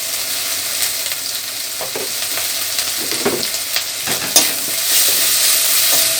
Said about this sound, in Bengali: এখন মশলাটা খুব ভালো করে আমি কষে নেব।